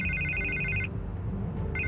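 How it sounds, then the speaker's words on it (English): A telephone rings in Batman: The Telltale Series, a bright electronic trill that sounds, pauses, then starts again over a low ambient hum, with no voices. "I can't get the phone to stop ringing."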